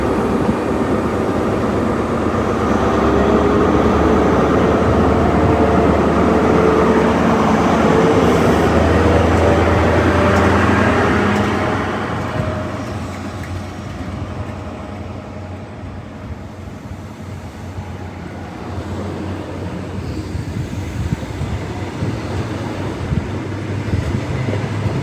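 Trains pass through Filton Abbey Wood station near Bristol, a loud sustained rumble and rail roar that swells for the first half, then eases into a lower, steady drone as the train recedes; no talk.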